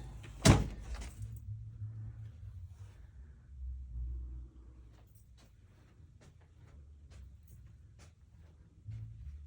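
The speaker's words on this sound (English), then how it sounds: "Whoops, door open." A door thumps open sharply near the start, followed by low rumbling room noise and faint scattered clicks.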